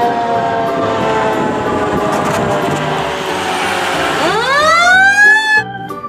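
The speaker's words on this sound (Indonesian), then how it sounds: "di sini ada truk pemadam kebakaran tangga" A ladder fire truck's siren blares loud and close, first as steady layered horn-like tones, then rising into a sweeping wail near the end.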